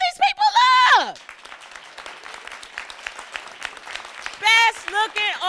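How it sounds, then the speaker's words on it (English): Studio audience applause at a local St. Louis TV show, a continuous patter of clapping in the middle, framed by a host's loud, excited voice at the start and end. "give the audience a big round of applause"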